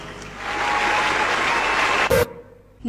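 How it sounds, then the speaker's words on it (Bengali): Applause at an award ceremony for a newly selected administrative cadre officer, a loud burst of clapping for about two seconds that cuts off abruptly into quiet. "রহমান তন্নি বিশেষ প্রশাসন ক্যাডারে নির্বাচিত করতালির মধ্যে অভিনন্দন জানাই"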